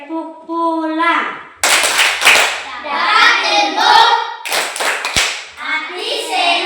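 Children in a classroom clap their hands in patterned bursts, loud and close, mixed with children's chanting voices and an adult talking, with sharp claps and thumps punctuating the rhythm.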